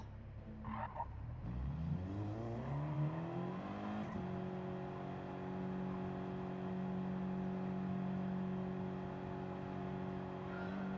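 Race cars on the Tsukuba circuit in a racing video game, with engines rising in a steady whine as they accelerate and then settling into a sustained droning tone, loud and continuous, with no talking.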